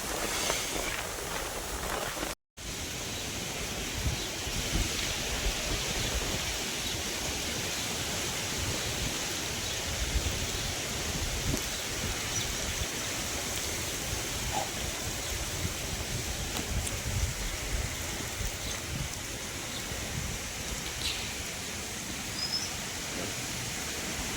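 Rainwater running off farm fields during steady rain, a continuous broadband rushing wash like a stream, close and even throughout with no voices.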